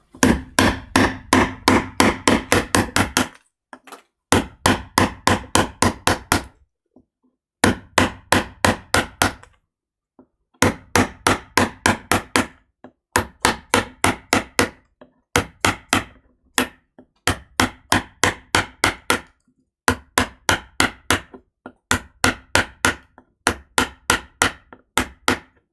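A hammer strikes in fast, regular runs of sharp blows, each run of a dozen or so hits broken by short pauses, loud and close with nothing else in between.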